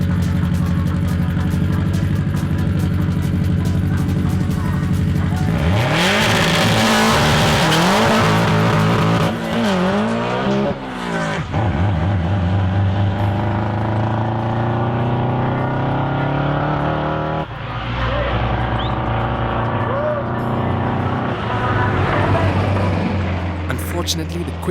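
A turbocharged Subaru GR hatch WRX STI built and tuned by NXgen, making over 500 kilowatts at the hubs, races at a private event: loud engine revving and rising through gears, with tire squeal and a commentator talking over it.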